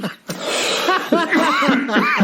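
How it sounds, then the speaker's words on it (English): A sharp cough breaks into laughter, followed by wheezy chuckles and snickering close to the microphone. "I'm laughing so hard I'm coughing"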